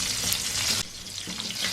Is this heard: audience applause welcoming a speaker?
no